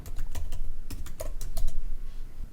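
Typing on a computer keyboard while building a 360° virtual tour in H5P, a quick close burst of clattering keystrokes in uneven clusters with no talk.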